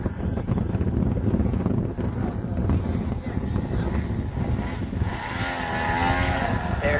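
Large radio-controlled Yak 55 model aerobatic plane flies in to land, its engine a steady loud drone under heavy wind buffeting on the microphone, with a faint shifting tone toward the end.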